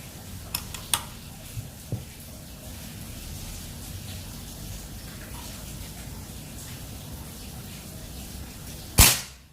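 A single sharp, loud crack from a 30 cm mini bullpup PCP air rifle at 3500 psi near the end, after a few faint ticks and clicks over a steady low background hum.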